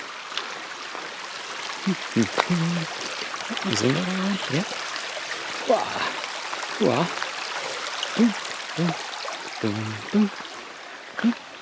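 A small stream at a woodland trail water crossing trickles and burbles steadily in the background, nearby but soft, while people talk briefly over it.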